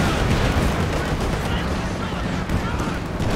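Dense, continuous battlefield gunfire and artillery blasts in the Company of Heroes 2 strategy game, loud and unrelenting as anti-tank guns fire, with a voice talking over the din.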